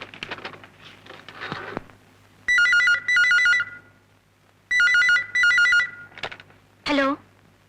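A telephone in a film scene rings in two pairs of shrill electronic trills separated by a pause, with people talking briefly before and between the rings.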